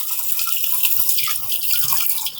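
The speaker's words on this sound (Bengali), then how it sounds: "এবার আমি করলাটা কচলে কচলে ধুয়ে নিব।" Bitter gourd is rubbed and washed by hand in water, with close, irregular splashing and trickling that sound like a sink. Small sloshing surges recur throughout.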